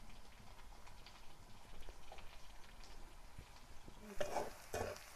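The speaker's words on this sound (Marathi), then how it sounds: "आपला कांदा मस्त परतला आता पहा एकदम मस्त असा परतला आहे कांदा" Chopped onion sautéing in a pan for a dal tempering, a faint, steady sizzle with soft stirring scrapes and a couple of brief louder clatters near the end.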